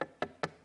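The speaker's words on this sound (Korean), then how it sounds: "노크 소리가 딱 들리는 거예요." Three sharp knocks on a door, evenly spaced in quick succession, close and crisp with nothing else around them.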